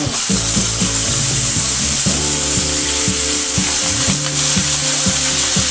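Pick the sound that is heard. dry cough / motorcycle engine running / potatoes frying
potatoes frying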